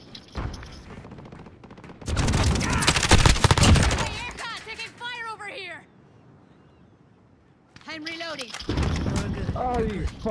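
Heavy automatic gunfire and bursts from a shooter video game, set around a shipping area, come in loud, dense volleys, drop away during a lull, then return, with players talking over the action.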